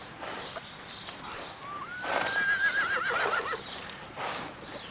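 A horse gives a clear rising whinny amid soft clip-clopping hooves, moderately distant and fairly faint, with no talk.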